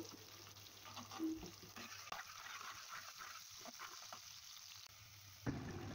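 Onions sautéing in a pan for noodles, a soft, low sizzle with occasional light stirring clatter, quiet throughout and a little louder at the end.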